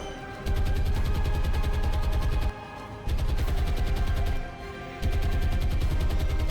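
Bombs dropped by Martin bombers explode in the War on the Sea naval game: three loud, sustained blasts of rumbling gunfire-like roar, each about two seconds long, separated by brief lulls.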